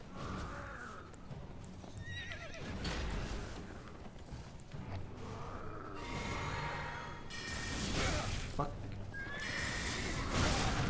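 A horse in the video game Elden Ring neighs and whinnies several times, loud and close, with snorts and hoof clops, while someone talks over it.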